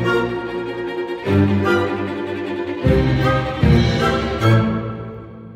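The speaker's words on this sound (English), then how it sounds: "Starts with the cellos and then has the whole orchestra." Full orchestra building from a cello opening, with sustained harmonic swells that surge louder in several successive waves, rich and resonant.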